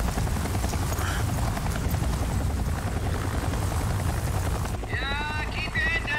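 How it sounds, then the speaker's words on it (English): A helicopter in the Resident Evil 4 Remake video game thunders with heavy, steady rotor chop, loud and near, while game music and effects swell over it toward the end. "There's the chopper."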